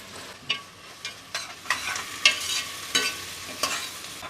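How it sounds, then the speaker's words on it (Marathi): Onion, tomato and dry coconut frying in a pan while being stirred for a wedding-style mutton masala, soft sizzling punctuated by about a dozen regular scraping strokes of the spoon, close and moderately loud with no speech. "आता यामध्ये आपण खोबरं घालूया आणि हे सर्व साहित्य आपल्याला तांबूस करून घ्यायचं आहे"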